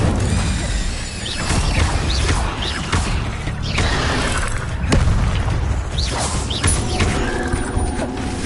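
Incendio fire spell blasts in Hogwarts Legacy, a steady roar of booming, crashing magic bursts with whooshes, loud and continuous with no talk.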